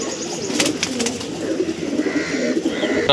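Andhra pigeons in a home loft coo in soft, repeated low calls, with a few brighter chirps over a steady background hum and no speech.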